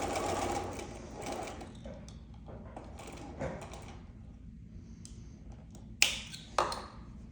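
Sewing machine stitching quilted fabric for a Christmas gnome table runner, running in steady bursts with a close mechanical whir, pausing, then a couple of sharp taps near the end.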